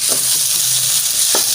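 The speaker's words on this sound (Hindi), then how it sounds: "थोड़ी देर इसको भूनेंगे, 3 से 4 मिनट" Potatoes for an egg and potato bhujiya frying in a pan, a steady close sizzle with a couple of brief stirring knocks, no voices.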